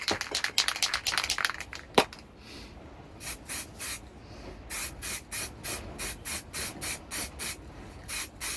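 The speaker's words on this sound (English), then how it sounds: "I'm going to give it a coat of primer" Short hissing spray bursts of red primer repeat in a steady rhythm, close by, as a blast shield is coated, following a stretch of scraping and rubbing at the start.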